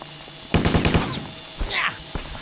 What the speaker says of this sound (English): Shooting now!